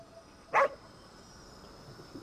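A single short dog bark in Ghostwire: Tokyo, set in Tokyo, clear and fairly close against a quiet background hum, then silence.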